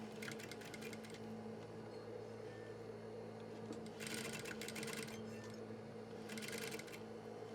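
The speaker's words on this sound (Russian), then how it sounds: "обтачку настрачиваем на подкладку" Sewing machine stitching a facing onto trouser pocket lining, a faint steady mechanical hum broken by quick bursts of rapid stitching that repeat several times.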